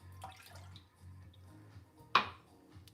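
Water goes into a pan for choux pastry dough, faint drips followed by one short, sharp splash, quiet and close with no talking.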